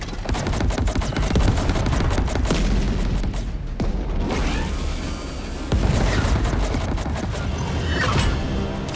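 A dense gunfire volley in the space combat game Chorus: rapid overlapping shots and booming blasts fire continuously and loudly throughout, with no pause.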